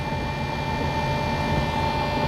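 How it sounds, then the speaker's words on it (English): A refrigeration unit on a truck trailer runs as a steady, continuous mechanical drone with a constant tone, heard close and alone without any talk. "sounds like my reefer's running."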